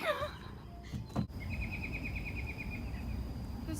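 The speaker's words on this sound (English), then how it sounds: "There's a bird." A small bird gives a quick run of high, rapid chirps partway through, fairly faint over outdoor background noise, with a brief louder bump just before it.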